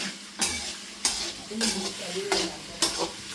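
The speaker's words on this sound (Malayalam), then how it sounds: "ഇളക്കി ഓക്കെ ഒന്ന് വഴന്ന് വരണം" Spices and vegetables being stirred and sautéed in a pan for kalan, a Kerala curry, with a spoon scraping at intervals against a soft, steady sizzle close by.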